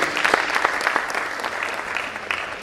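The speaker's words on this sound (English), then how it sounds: "A round of applause for her, please." Conference audience applauds a professor during a plenary session, a steady mass of clapping through a hall, moderately loud and continuous with no talk over it.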